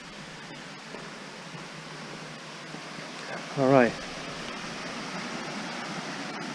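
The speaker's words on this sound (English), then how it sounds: "Sounds like there's a good waterfall." Bears Den Falls heard as a steady, moderate rush of falling water in the distance, continuous throughout, with someone briefly speaking midway.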